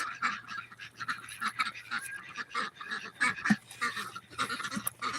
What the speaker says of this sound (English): And these ducks